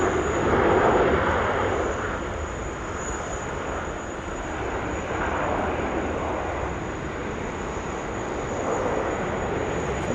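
A passenger jet bound for Melbourne taxis off the domestic apron at Sydney Airport, a steady engine rumble and roar with a thin high whine, swelling and easing gently over time.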